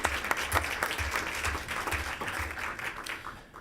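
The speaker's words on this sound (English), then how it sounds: "Round of applause for Angel." A crowd applauds with steady clapping for a few seconds before it fades out.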